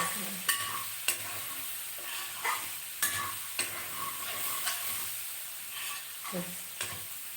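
Long beans fry in a pan with a soft continuous sizzle, punctuated by sharp spatula clicks and scrapes as they are stirred at a moderate, irregular pace, no talk.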